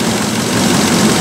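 A 2008 Nissan Armada engine idles while warming up, a loud, steady low rumble with even vibration close by and no talking.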